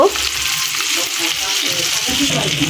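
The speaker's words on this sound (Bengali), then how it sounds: "মাছটার দুই পেটি একদম ভালোভাবে ভাজা ভাজা হয়ে গেছে" Hilsa fish pieces fry in hot oil in a pan, a continuous close, loud sizzle with faint stirring underneath throughout.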